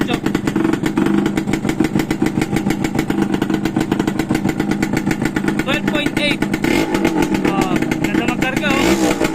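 A Suzuki X4 motorcycle with an unrepaired exhaust runs loud and steady at close range, its rapid rough putter continuous throughout, with someone talking over the engine noise.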